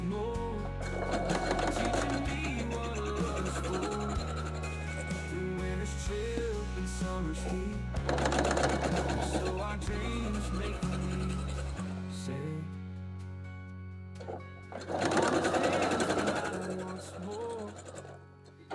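A sewing machine stitches Ohio Star quilt block pieces together in three short bursts of rapid, close whirring, with soft music and a voice in the background between runs.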